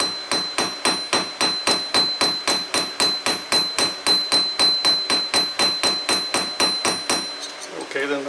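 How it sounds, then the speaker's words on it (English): A blacksmith's hammer strikes hot steel on an anvil while forging a taper. Around two dozen light, evenly spaced blows ring out close and loud, each leaving a bright metallic ring, and the rhythm stops near the end. "I'm not striking very hard. I've got the handle held down here close to the heft, so that I'm letting the hammer actually do the work"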